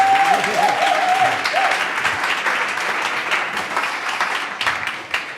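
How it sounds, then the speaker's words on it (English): Audience giving a round of applause for a panel at a conference stage, dense sustained clapping from a crowd that holds steady for several seconds and slowly thins, with a faint voice briefly at the start. "Big round of applause, please, for Sergio and his panel."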